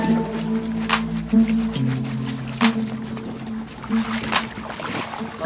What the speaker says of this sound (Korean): 바람도 많이 불고 파도도 굉장히 높습니다.